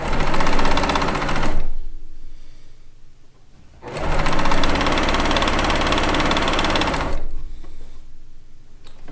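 A sewing machine stitches quilt blocks in loud, close runs, whirring steadily for long stretches with two brief pauses between bursts.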